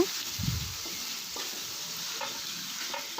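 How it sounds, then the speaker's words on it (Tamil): Chicken for a spicy gravy fries in oil in a pan, giving a soft, even sizzle. Quiet scrapes of stirring come through over the short stretch. "நல்லா ஃப்ரை ஆகணுங்க குக் ஆகணுங்க"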